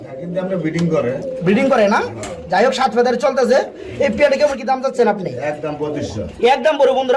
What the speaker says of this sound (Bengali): স্প্যানিশ চরের কবুতরের জোড়া না নটটা ডাকতেছে